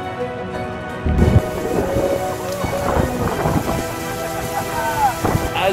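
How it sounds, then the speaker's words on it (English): A thunderstorm with loud, close rolling thunder over steady heavy rain, continuous and rumbling throughout. "we've got a storm coming our way"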